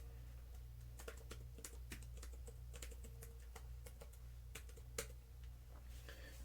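Typing on a computer keyboard during a coding session, a run of quick irregular key clicks at close range over a steady low hum, with a couple of louder keystrokes and no talking.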